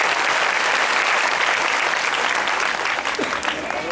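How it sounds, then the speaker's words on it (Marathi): Audience at a Shiv Katha religious gathering applauding to welcome a newly elected MLA, a dense, steady wash of clapping from many hands that carries on throughout. "टाळ्या वाजून त्यांचं स्वागत"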